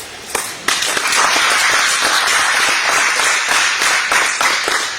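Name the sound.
conference audience applauding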